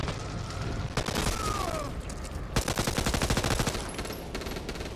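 Rapid gunfire fills a video game scene, with bursts of automatic fire and separate single shots cracking loud and close in quick succession over a dense, rumbling background.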